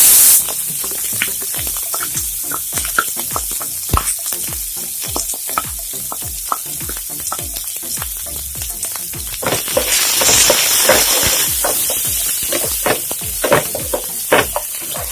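Onions sautéing in a pan for coconut rice, loud crackling sizzle under rapid, rhythmic scraping and clinking of a spoon stirring against the pan, with a brief surge of hissing near the middle.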